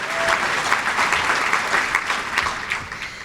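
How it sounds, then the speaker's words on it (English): Steady applause from an audience at a regional chamber of commerce government affairs forum, a dense wash of many hands clapping at even loudness for the full stretch with no voices over it. "you should clap"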